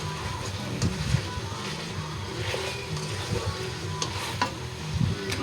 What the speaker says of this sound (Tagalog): halo-haloin lang natin konti.